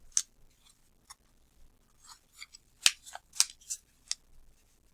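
Paper is folded and creased by hand for a paper airplane, a series of soft, crisp rustles and short scraping swipes, close and quiet, in irregular bursts with near silence in between.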